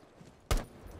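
A single sharp gunshot bang in the video game Rainbow Six Siege, short and loud, breaks a quiet background.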